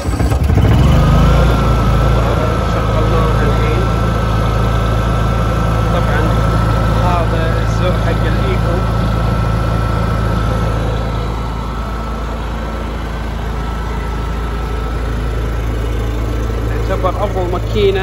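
Honda EU65is generator running steadily, a constant mid-pitched engine hum with a sustained tonal whine, close and even for the whole stretch, easing slightly quieter partway through, with someone talking over it.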